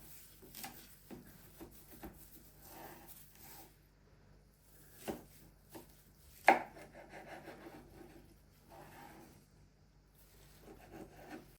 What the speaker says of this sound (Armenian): մենք սիրուն ակուրատնի կտրտենք